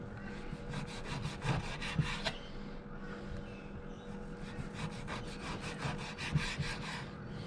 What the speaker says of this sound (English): I've sliced and then cut into small strips, about 120 grams of my guanciale